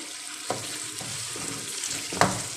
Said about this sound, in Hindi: इसको हमने भूनना है इतना कि ये अच्छी तरह से मसाले में मिक्स हो जाए